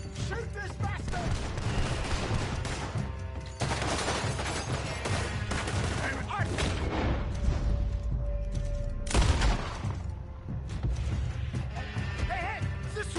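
Rapid gunfire crackles through a Red Dead Redemption 2 shootout, layered with game music and background commotion, with heavier bursts around the middle and the end.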